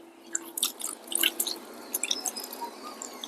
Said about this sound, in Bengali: এটা আমরা দেওয়ার পর এতে জল দিয়ে দিলাম ভালো করে